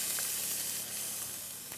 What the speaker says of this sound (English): There's my sizzle, my lovely sizzle.